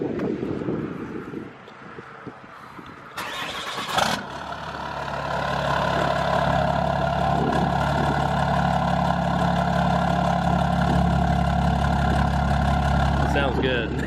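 Nitrous-equipped Cummins diesel truck engine starts and settles into a steady, loud idle with a low rumble, accompanied by some wind noise, while people talk nearby.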